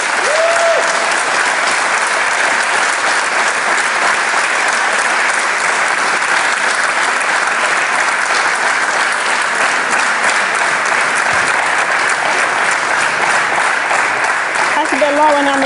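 A studio audience applauds steadily and loudly throughout, dense clapping with no break, for a talk show.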